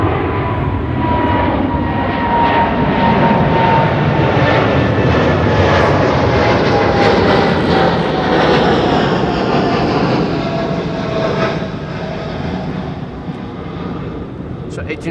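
Airliners landing at Amsterdam Schiphol airport on runway 06 in the morning, a loud continuous jet engine roar that swells and slowly fades as aircraft pass, with a person talking over it.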